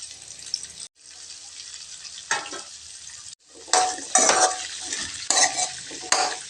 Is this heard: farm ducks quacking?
no